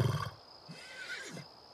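A horse in The Sims 3 Pets neighs once, a clear wavering whinny with rising and falling pitch, heard alone and close after a brief thump.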